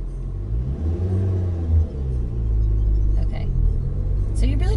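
A car engine idles and revs with a steady low rumble while a learner works a manual transmission's clutch, rising briefly in pitch; people talk throughout over the engine noise.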